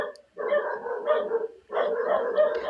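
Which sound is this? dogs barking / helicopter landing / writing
dogs barking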